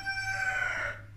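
A rooster crows once, a loud, sustained, harmonic call that holds steady and then cuts off, with a low hum underneath.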